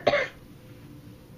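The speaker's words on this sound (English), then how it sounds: "I have to cough." A woman who is 31 weeks pregnant and has allergies gives a single sharp cough right at the start, close to the microphone, followed by quiet room tone.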